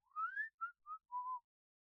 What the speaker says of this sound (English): A high-pitched sound made by forcing air. He whistled his favorite tune.